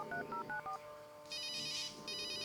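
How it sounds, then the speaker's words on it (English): Telephone keypad tones in the video game Runaway: a Road Adventure: four quick beeping dial tones in a row, then a brief pause before a higher electronic ringing burst, all fairly quiet. "I'll call Willie and try to get him to enter the analysis laboratory."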